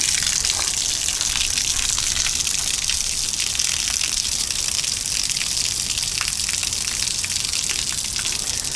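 Water gushes steadily and loudly at close range as an RV holding tank is rinsed out with a hose wand, a constant rushing spray with no pauses.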